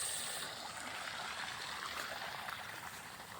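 Steady rushing water flows continuously into a farm field, a broad close hiss like a stream pouring through a channel, with no voices.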